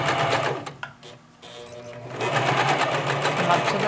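A sewing machine runs steadily as it stitches fabric around a curve, briefly pausing midway before resuming at full speed, loud and close with no talking.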